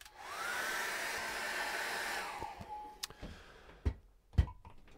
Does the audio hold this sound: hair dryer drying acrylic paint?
yes